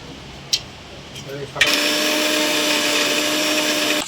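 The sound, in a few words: grinding matar dal (split peas) in a mixer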